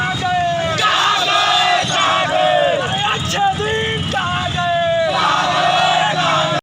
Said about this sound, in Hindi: बेरोजगार युवाओं ने ताली व थाली बजाकर अच्छे दिन कहाँ गए कि जमकर लगाए नारे